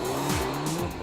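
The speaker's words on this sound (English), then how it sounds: "Now the car is rolling." A 1997 Toyota Corolla WRC rally car on a test run, its engine roaring loud and close with rising and falling revs and a brief squeal of tires, with no voices.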